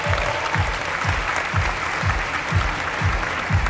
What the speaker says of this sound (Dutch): Mag ik een warm applaus